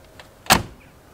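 A Mercedes G63 AMG door shuts with a single sharp, heavy thud, preceded by faint latch clicks and followed by a quiet mechanical whir.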